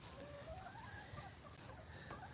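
Chickens cluck softly inside a large backyard coop that holds about fifteen birds, faint and close for a couple of seconds.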